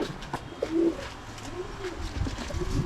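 Pigeons kept in boxes coo softly nearby, with a few low throaty calls over light shuffling and rustling in the background.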